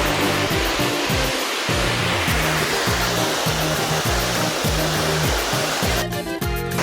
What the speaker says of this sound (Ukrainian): Водоспад Гуркало. Один з найкрасивіших водоспадів Львівської області.